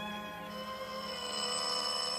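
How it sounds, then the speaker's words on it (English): A doorbell rings continuously in a 1949 suspense radio drama, a sustained, steady ringing tone held without a break and no voices over it. "that they stood there ringing my bell for 5 solid minutes before they woke me up"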